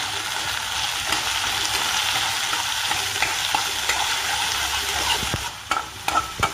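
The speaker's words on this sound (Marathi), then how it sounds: "मी लसूण खोबरं घालते" Garlic and grated coconut fry in a black iron kadhai, a steady close sizzle with light stirring throughout and a few sharper utensil scrapes near the end.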